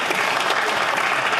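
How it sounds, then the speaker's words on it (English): Liberal MPs clap in the Canadian House of Commons, a steady dense wash of applause from many hands filling the chamber throughout with no pauses. "Half of the Liberals are even clapping colleagues for to please Trudeau"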